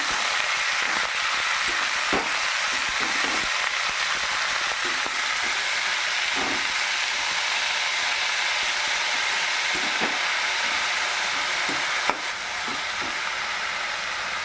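Boiled bathua and khesari greens go into a pan of fried lentil bori, giving a loud, continuous frying sizzle and hiss with scattered soft stirring taps throughout, no talking.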